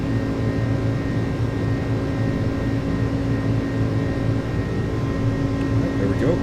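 Steady, loud drone of the iniBuilds A300 airliner's engines during a climb in Microsoft Flight Simulator, a continuous hum with constant tonal whine throughout, no talk in the clip.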